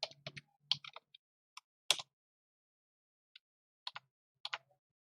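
Scattered keystrokes tap on a computer keyboard in short bursts with pauses between, quiet and close, ending with a few separate key presses.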